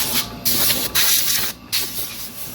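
Compressed air blasts dust out of a Monster Mill MM3 Pro grain mill pulley in several loud, close hissing bursts, each broken by short pauses.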